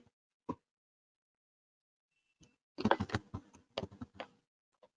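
Typing on a computer keyboard: a single click, a pause, then a quick run of crisp keystrokes close by in an otherwise quiet room.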